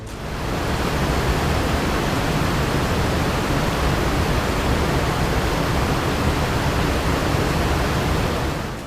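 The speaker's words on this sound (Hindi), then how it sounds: "यहाँ पर इस टाइम पूरा गाँव सुनसान है और सिर्फ पानी की आवाज़ है।" Loud, steady rush of floodwater through a deserted flooded village near the Ravi river's Balloki headworks, a dense unbroken roar filling the whole stretch with no voices.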